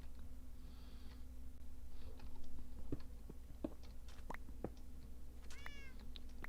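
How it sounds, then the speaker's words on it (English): A Minecraft cat meows in short, bright calls over a faint low hum and scattered soft clicks, with one clear meow standing out near the end and no voices. "Hi, kitty. You can run around. It's a good kitty."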